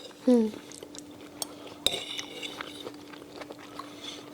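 Dishes and cutlery clink while Mountain House beef stew survival food is served: a loud scrape at the start, then a sharp metallic clink and scattered light taps and clatter, with faint talking underneath.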